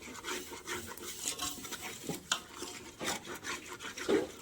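Mutton curry masala being sautéed in oil over a clay stove, with a steady scraping and stirring texture and light clinks of a utensil against the pot, close and moderately quiet, no talking.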